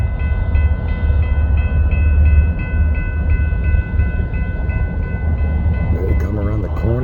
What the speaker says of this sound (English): Sun's coming up and BNSF is heading north.